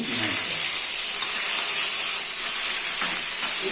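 Garlic frying in a pan with a bay leaf and caramelizing sugar over a gas flame, a steady close sizzle with bright hiss running unbroken throughout.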